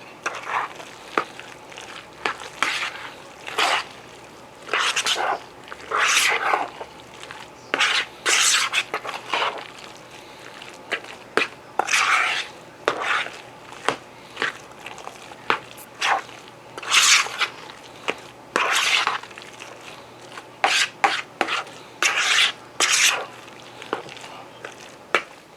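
A spoon stirs freeze-dried potato salad seasoned with salt, making wet squishing and scraping strokes that come in irregular bursts, close and fairly quiet, with no talking.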